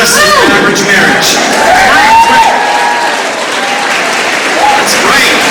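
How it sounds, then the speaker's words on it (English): Large conference audience at a keynote applauding and cheering, loud sustained clapping with whoops and shouts filling the hall throughout. "Cheer each other on."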